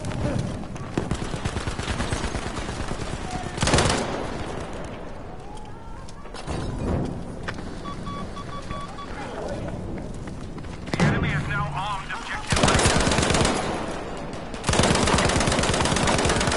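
Gunfire in a Battlefield shooter, bursts of automatic shots loud and near, coming in several separate volleys over a busy battle soundscape with voices talking in between.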